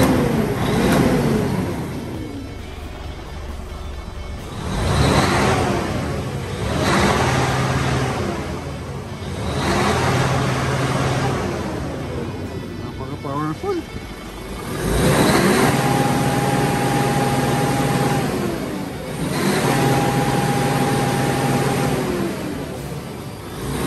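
A 2016 Isuzu Giga 10-wheeler wing van truck's diesel engine revs repeatedly, rising and falling in several long surges over a steady idle, close and loud, with no talking.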